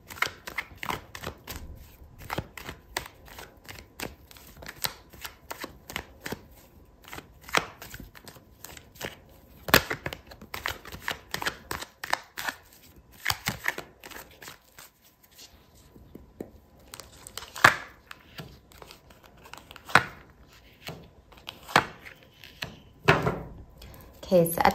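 Tarot cards shuffled by hand, with an irregular run of crisp riffling and slapping bursts and brief pauses between them.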